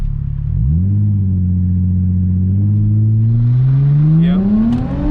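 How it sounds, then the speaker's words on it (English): Nissan 350Z engine revving hard through a mini burnout from a brake stand, a loud steady rising drone that climbs in pitch over several seconds, with tyre noise building near the end. "so start doing a little mini burnout right here."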